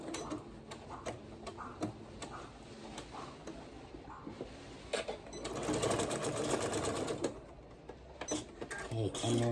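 Sewing machine stitching a French seam in fabric, a rapid mechanical ticking that runs in bursts with short pauses, close by and moderately loud, while a person speaks over parts of it.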